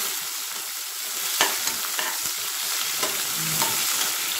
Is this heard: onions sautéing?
yes